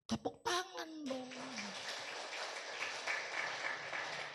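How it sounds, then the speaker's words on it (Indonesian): Church congregation breaks into broad, steady applause after a brief spoken or sung vocal opening, the clapping swelling into an even wash that continues to the end. "Tepuk tangan dong."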